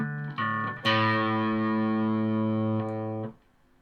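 A sustained electric guitar chord heavily distorted, ringing out for a few seconds with buzzy harmonics before cutting off abruptly.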